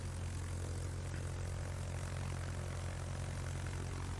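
Steady, continuous drone of propeller aircraft engines from rocket planes in the World of Warships naval combat game, a constant even hum without breaks or talk.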